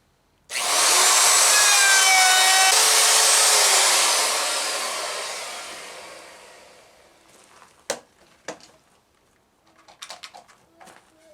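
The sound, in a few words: router cutting a 3/8 inch roundover edge on wood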